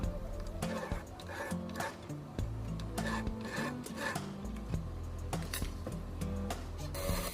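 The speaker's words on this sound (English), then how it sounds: "what I'm using now is a Kraus burr, and this is a really small, like pointed sharp tool. It's like a small little cutter" A small pointed Kraus burr grinds and rasps into a carved maple leaf necklace in short close scratching passes, with a whirring rotary tool tone shifting pitch as it cuts.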